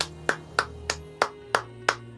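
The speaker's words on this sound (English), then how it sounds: "And the whole room starts clapping." Six evenly spaced claps sound sharp and close, each about a third of a second apart, with a faint hum underneath. This is a single person's slow, measured clapping rather than a whole room applauding.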